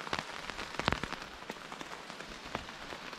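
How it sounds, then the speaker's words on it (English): Rain patters steadily on a shelter roof at a forest campsite, a soft, close drumming of scattered drops with occasional heavier taps and no voices. "the roof's doing its job, keeping the rain off us."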